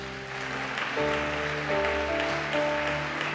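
A church congregation claps together as praise, with sustained broad applause that swells in waves beneath a steady organ or keyboard chord.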